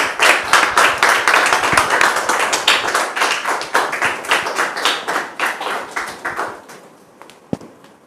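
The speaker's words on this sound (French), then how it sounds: "Sous vos applaudissements, s'il vous plaît." Close applause from a small audience, many hands clapping in a fast, even patter that holds strong and then thins out toward the end, with one last louder clap.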